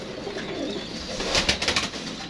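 A pair of golden pigeons coos softly at close range, a few low throaty calls over a steady background hiss.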